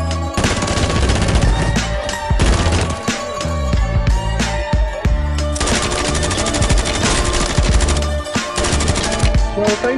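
Rapid bursts of automatic gunfire in Call of Duty: Warzone 3 crackle loudly and almost nonstop, layered with game-like impact sounds and no talking.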